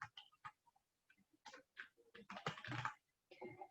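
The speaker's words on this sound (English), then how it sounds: "you can type in the search bar, you can type in Instagram post" Keystrokes on a computer keyboard type a short word into a search bar, a sparse, quiet sequence of close taps that quickens toward the end.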